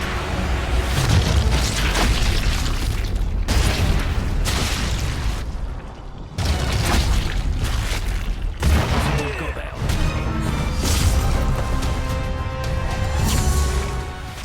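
Sniper rifle shots in the video game Sniper Elite: Resistance, a continuous barrage of loud booming blasts and explosive impacts layered with game music and effects, with brief drops between bursts.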